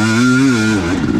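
A 2019 KTM 250xc two-stroke dirt bike is ridden on a granite trail. Its engine drones loud and close in one steady, revving note that shifts slightly in pitch over about a second.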